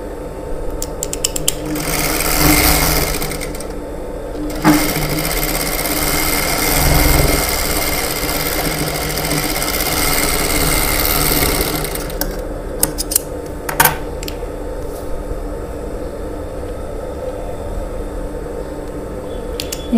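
A sewing machine stitches a lined blouse, running in long steady bursts with short pauses and a few sharp mechanical clicks between runs, close and fairly loud with no talking.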